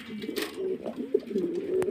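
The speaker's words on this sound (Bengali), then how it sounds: "কোকার ডাকগুলা শুনে রাখেন" Pigeons coo close by, low rolling calls repeating over a couple of seconds, with a few faint background knocks.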